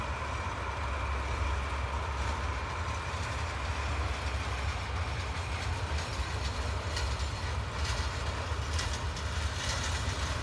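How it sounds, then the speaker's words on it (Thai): A freight train hauling stone wagons near Ban Pong station in Thailand, a loud continuous rumble of rolling wagons with low drone and rhythmic wheel clatter, close by and steady with no talk. "กำลังพาขบวนบรรทุกหินนะครับ ไปบริเวณจุดตัด ทางด้านเหนือนะครับของสถานีบ้านโป่งนะครับ"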